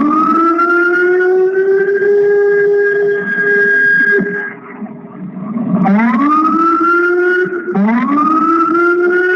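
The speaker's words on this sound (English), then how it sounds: "Police sirens." Police sirens wail loudly and close, rising and falling in long sustained sweeps with a brief dip partway through before winding up again twice.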